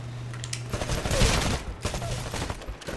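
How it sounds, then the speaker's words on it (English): Rapid gunfire trades back and forth in a Titanfall shooter match, a dense crackling volley swelling in the middle and tapering into scattered shots, fairly loud over a background hum. "Shots being exchanged from down here."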